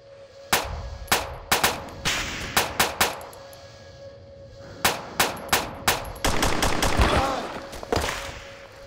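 ArmA 2 video game gunfire: sharp, loud single shots crack out in irregular clusters, some ringing with a metallic echo, ending in a denser, rumbling volley.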